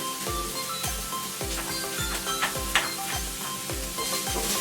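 Garlic sautéing in oil for Filipino menudo or afritada, a steady close sizzle with repeated low thumps and scrapes of a utensil stirring through the pan.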